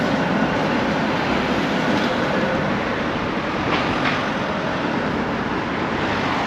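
A tram rumbles past on a street in Brno, Czech Republic, a continuous loud rolling roar with faint rail clatter and a brief squeal midway.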